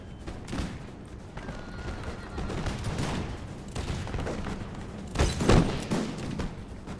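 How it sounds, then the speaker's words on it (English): Scattered musket volleys and crackling infantry gunfire from a Napoleonic-era battle in the Imperial Splendour mod, with troops firing from windows; shots pop irregularly at moderate distance, with a louder burst near the end. "our men are now firing from the windows"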